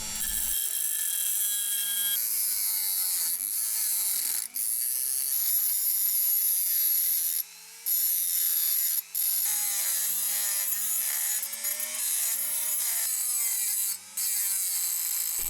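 A small piece of stainless steel, salvaged from tweezers, is cut by hand with a rasping, steady back-and-forth sawing that runs continuously and loud with a few brief pauses, and no voices.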